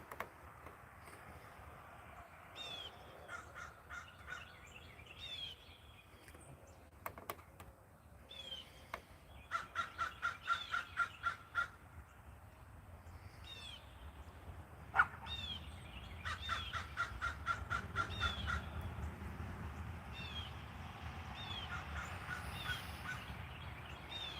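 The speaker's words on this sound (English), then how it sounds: "That's the crow that's singing out." Crow caws at dawn outdoors, two quick runs of rapid, fairly distant harsh calls amid faint background birdsong and low ambient hum.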